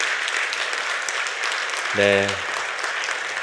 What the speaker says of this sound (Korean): 하나님께 박수 한번 올려드릴까요?